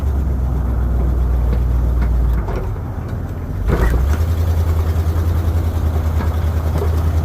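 A plow truck's heavy diesel engine idles with a deep, steady rumble close by, dips briefly, then revs back up and holds a stronger drone while pushing a car out of the way.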